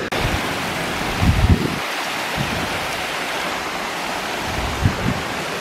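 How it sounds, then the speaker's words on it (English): A waterfall pours down into the upper lake at Glendalough, producing a steady, full rushing roar with a few low thumps and gusts rising briefly above the constant wash of water. "And there are a lot of waterfalls here."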